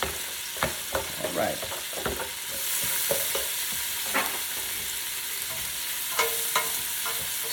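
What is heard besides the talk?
onion frying and being stirred in a pot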